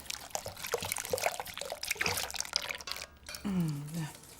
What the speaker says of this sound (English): what I want to do first is whisk and pour in the warm cream, complete with a pod